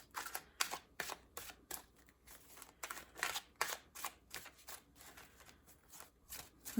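Tarot cards are shuffled in quick rhythmic riffles, a steady series of crisp flutters close by with no talking.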